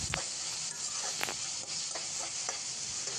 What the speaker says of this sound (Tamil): அதை நம்ம சேர்த்துக்கலாம். சேர்த்துட்டு நல்லா வதக்கிக்கலாம்